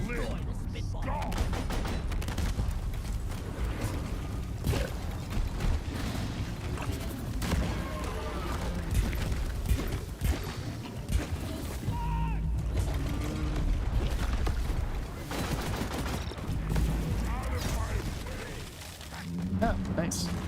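Dense bursts of weapon fire and mechanical clatter rattle through a co-op mission in the video game Deep Rock Galactic on Hazard 5, steady and busy throughout, with voices talking over the action.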